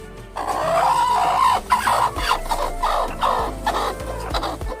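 Hens on a chicken farm cluck and cackle close by in an uneven, continuous chorus, with a few louder squawks and bumps in a barn-like space.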